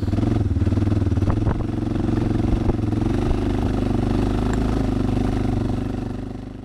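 A Suzuki motorcycle engine runs on loose beach sand in Spain, a close, loud, steady low throb with faint clattering that eases slightly toward the end.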